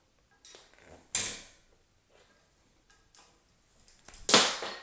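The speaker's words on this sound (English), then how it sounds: "I'll grab the cable that's stored behind the machine, and I'll run it through this lower pulley" Cable running through the lower pulley of an Ironmaster IM 2000 home gym, giving two short bursts of metallic creaking and sliding with quieter clicks between them, close and alone with no talk.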